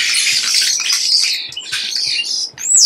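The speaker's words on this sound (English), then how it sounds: "the starling squawks will make a blue jay sound genteel" Starlings squawk loudly and close, a string of harsh, scratchy, buzzing calls with short gaps and wheezy rising notes, heard alone with no voices.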